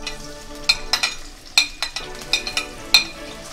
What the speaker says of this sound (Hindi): और हम जल्दी से इसमें अपनी फाइन की हुई प्याज डाल देंगे।